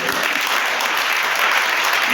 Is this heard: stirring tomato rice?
no